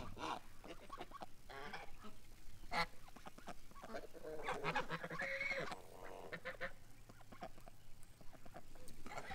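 Ducks quacking at a lake, several birds calling in scattered, overlapping bursts at middle distance over faint outdoor background noise.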